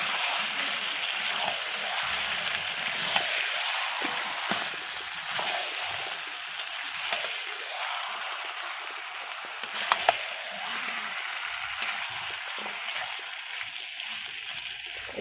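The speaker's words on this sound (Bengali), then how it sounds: "এইবার আমি চিকেনটা দিয়ে দেব। ভালো করে নাড়াচাড়া করবো।" Marinated chicken going into a hot pan of oil and being stirred, a steady hissing sizzle with scattered scraping and clinking from the stirring.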